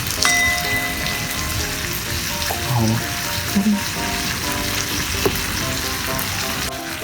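Pepper Lunch-style pork fried rice stir-fries in garlic butter and rendered pork fat with no added oil, making a loud, constant close-up sizzle with occasional light clinks of the spatula against the pan.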